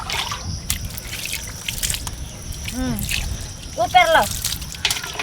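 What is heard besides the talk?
water being poured over feet while bathing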